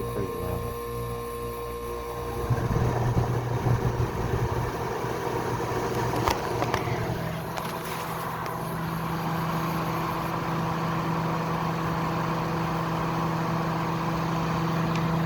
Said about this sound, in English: That compressor sounds amazing. It's too bad the fan's so loud.